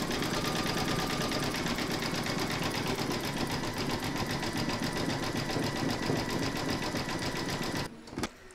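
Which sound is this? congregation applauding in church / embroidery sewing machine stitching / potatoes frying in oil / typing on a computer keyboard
embroidery sewing machine stitching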